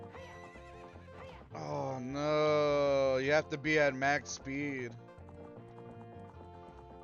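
Horse Epona galloping in a video game, rhythmic hoof clip-clop with a whinny, sitting under continuous loud talk and game music throughout.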